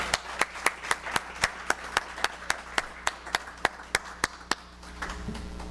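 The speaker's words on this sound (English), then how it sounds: "Can I have one more round of applause for Dr. Kelly Rainey, please?" A single person claps alone at a multicultural gala, seventeen or so sharp, evenly spaced claps ringing close and clear, then stopping as faint room noise follows.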